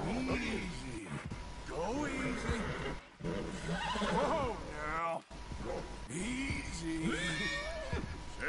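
A golden horse in a video game whinnies several times, rising and falling neighs close at hand with faint hoof sounds, while someone talks over them.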